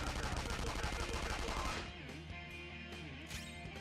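Rapid assault rifle fire in the video game Persona 5 Royal comes as a dense, loud automatic burst for about two seconds. It then gives way to quieter in-game music and effects.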